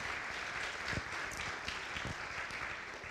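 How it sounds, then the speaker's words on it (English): Applause from a congregation at an evening interfaith gratitude service, honoring the service planning team: a steady, dense wash of clapping hands sustained throughout, with a few sharper individual claps standing out. "let's give them a round of applause"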